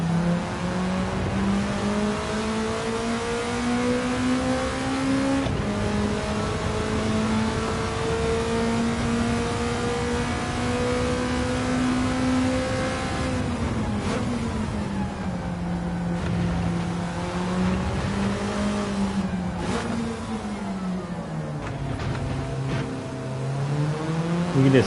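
A Ferrari Mondial of about 260 horsepower races in Gran Turismo 7, its engine droning loud and steady throughout, the pitch rising and falling as it revs through gear changes, with no talk over it.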